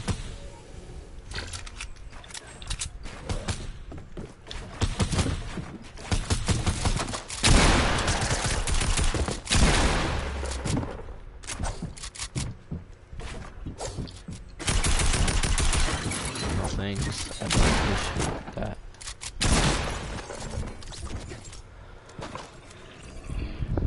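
Sustained Fortnite gunfire, dense bursts and rapid volleys of shots in a steady barrage across the whole stretch, loud and close with brief lulls between heavy flurries.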